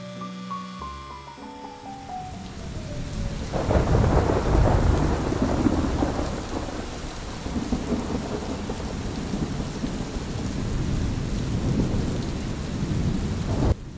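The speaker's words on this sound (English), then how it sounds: "Nothing but the sound of rain, thunder, and the clicking of clamps" Heavy rain pours steadily outside a woodworking shop while deep thunder rumbles and rolls loudly through the middle, fading into continued downpour.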